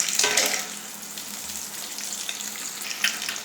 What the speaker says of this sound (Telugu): చెట్పట్ అంటున్నాయి కదా